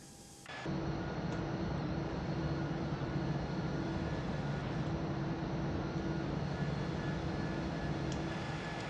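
Simulated jet engines of a Toliss Airbus A319 climbing in X-Plane 11 swell in after a short pause into a steady, even cabin drone with a faint tonal hum.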